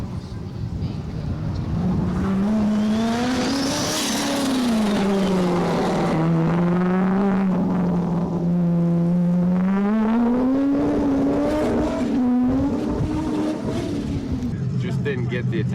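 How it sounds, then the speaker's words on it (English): A forged LS V8 in a project car, fitted with an 8-into-1 exhaust, hums loud and close, its pitch rising and falling as the throttle is blipped and eased through a steady drone. "running a fairly interesting 8-into-1 exhaust setup, so it sounds pretty different to most LSs you'll hear out there"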